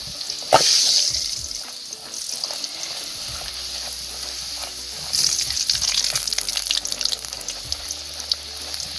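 Radhaballavi dough dropped into hot oil: a sudden sizzle bursts up and settles into steady bubbling frying, then swells again into a louder, crackling fry.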